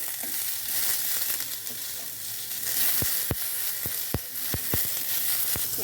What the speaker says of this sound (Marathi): कांदा भाजून घ्यायचा छान लाल